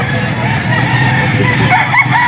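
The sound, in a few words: chickens at livestock auction market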